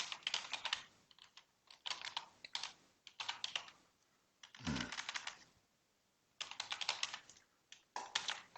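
Fingers tap quickly on a computer keyboard in several short bursts of clicking separated by brief pauses, close and fairly quiet, with no talking over it.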